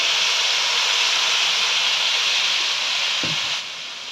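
Milk poured into a hot pan while making suji halwa gives a steady loud hiss and sizzle that holds evenly, with a brief low thump near the end before the sizzle quietens slightly.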